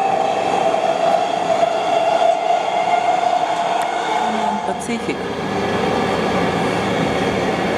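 Interior rumble of a commuter train running from Denver airport to Union Station in downtown Denver, Colorado, a steady loud rolling drone throughout with a voice talking over it.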